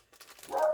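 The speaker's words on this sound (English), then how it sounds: "Sorry about the dog. I've tried to get him to stop." A dog gives a single short whimpering yip, faint at first and then a louder tonal whine at the end, heard indoors on its own.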